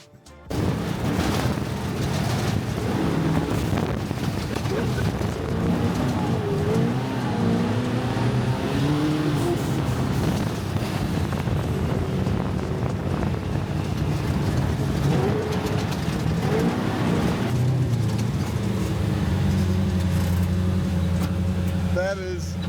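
A 1500-horsepower, full-carbon-bodied drift car roars at a Formula Drift event in Irwindale, sustained loud engine howl and revving for over twenty seconds, with crowd and voices mixed in.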